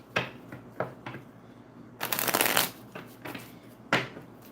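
A deck of playing cards is handled and shuffled up close, with several sharp flicks and snaps followed by a longer riffling burst and a final slap, loud and clear with no voice.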